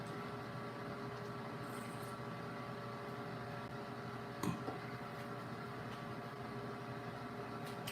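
A blender runs in a home kitchen while steak is being prepared, giving a steady, even motor whir that stays constant with one brief clatter midway.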